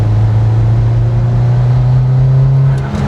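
Subaru WRX STI built for about 500 horsepower revving hard against its rev limiter, a loud sustained droning engine tone held steady for a few seconds with a slight flutter near the end.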